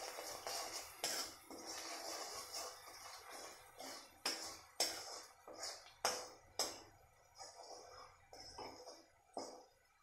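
Stirring salt into green chillies frying in a pan: irregular metal clinks and scrapes of a spoon against the pan, some sharp and close, over faint background noise, with no talk.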